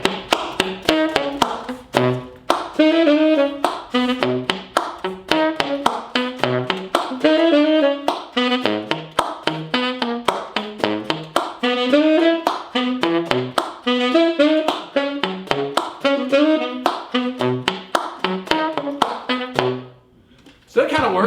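Beatbox saxophone, with percussive key slaps and pops carrying the beat while bass notes and melodic phrases weave between them, a dense, continuous rhythmic groove with a brief pause near the end.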